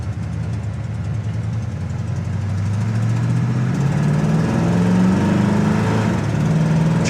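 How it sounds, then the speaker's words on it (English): A 1968 Chevrolet El Camino accelerates hard with a loud, steady engine roar that climbs in pitch, then shifts into second gear with the tires chirping. "Chirps the tires going into second there."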